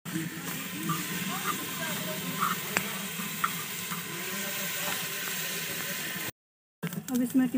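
Ghee sizzling in a hot cooking pot for frying masala, a steady close hiss and crackle that runs unbroken, then cuts out briefly near the end before resuming.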